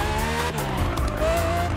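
A car drifts in the Drift Experience racing game, its engine droning loud and steady while the tires squeal continuously through the slide.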